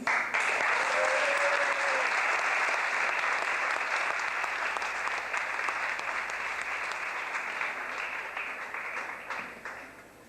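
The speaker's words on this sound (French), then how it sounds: "Je vous demande d'applaudir Sylvain Daflon." An audience at a Decathlon store inauguration in Mâcon applauds a triathlete being introduced, with loud, dense clapping throughout that tapers off at the end.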